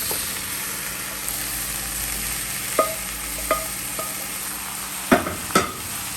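Crab thoran being stir-fried in a pan, a steady low sizzle with a handful of sharp scraping and clinking strokes of the spoon against the pan, close up and with no voices.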